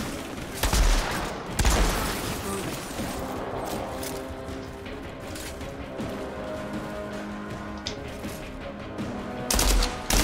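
Gunfire in the video game Outriders: a few loud, sharp bursts of shots near the start and again at the end, with a steady mechanical hum and faint rattling in between.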